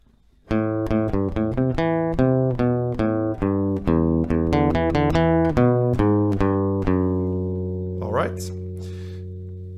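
A plucked acoustic guitar plays a steady melody of single ringing notes, close and clear, ending on a sustained note with a brief string scrape.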